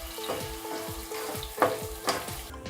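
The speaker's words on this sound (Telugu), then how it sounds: "ఆనియన్స్ వేసుకుంటున్నాను" Onions fry in oil for biryani, a steady close sizzle with soft stirring scrapes and a few louder crackles, no voices.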